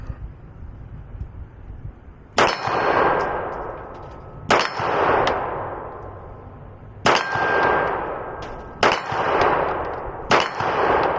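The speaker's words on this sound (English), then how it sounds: "Let's go ahead and shoot another group at 50 feet." Five sharp, loud reports from a Glock pistol fired as a group at targets 50 feet away, spaced unevenly over several seconds, each followed by a ringing metallic clang and a decaying tail, with no talking.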